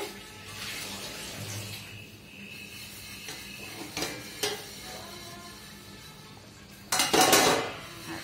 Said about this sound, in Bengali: কিছুক্ষণ পর আমি ঢাকনা উঠিয়ে নেড়ে চেড়ে দিব।